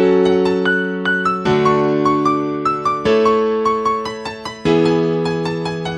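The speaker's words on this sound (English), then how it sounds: "Still not good enough, so I came up with this melody." A synth melody line, the third version tried for an official remix, plays alone over sustained chords, with plucky repeated notes and chord changes roughly every one and a half seconds.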